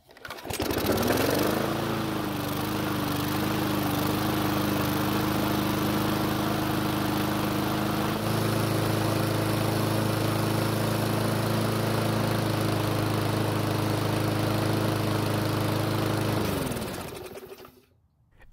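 A Weed Eater lawn mower's small engine catches and runs steadily for about fifteen seconds, with a buzzing drone that shifts pitch once midway before the engine cuts out near the end.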